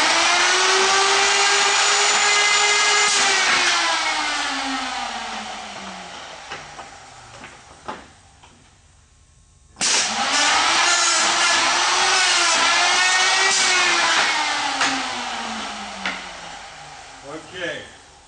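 A KVAL 950-3 hinge jamb machine routes 4-inch hinge pockets 1.5 inches deep into a door jamb, a loud sustained high router whine that drops in pitch, stops briefly, then starts again for a second pass.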